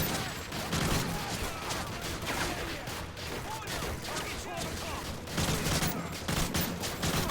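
Dense gunfire in Call of Duty Modern Warfare 3, a continuous crackling fusillade of rapid shots from several directions, with bursts swelling louder near the end and a voice talking faintly underneath.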